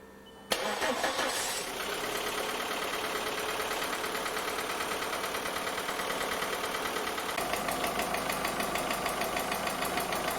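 A VW Polo engine, fresh from hydraulic lifter replacement, starts and settles into a steady idle with an even, fast ticking rhythm, loud and close, with no talk over it.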